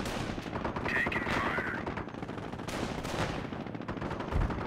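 Gunfire in the Company of Heroes video game during a harbour battle: dense, continuous rattling bursts of rifle and machine-gun fire with a distant crackle, loud and sustained throughout.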